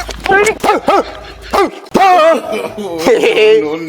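Local dogs let out a quick run of high yips and whining barks up close, followed by longer whimpering cries mixed with a voice.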